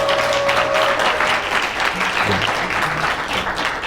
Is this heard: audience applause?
yes